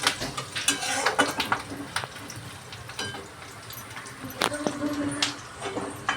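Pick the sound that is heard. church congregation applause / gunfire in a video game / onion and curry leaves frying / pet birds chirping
onion and curry leaves frying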